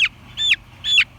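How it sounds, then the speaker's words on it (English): A small pet chicken held close gives three sharp, high clucks in quick succession, each a brief squawky note, loud and near against a quiet background. "oh, you hear my little chicken"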